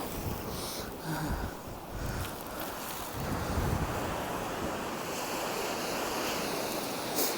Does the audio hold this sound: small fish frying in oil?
no